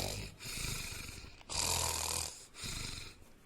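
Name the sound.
voice imitating snoring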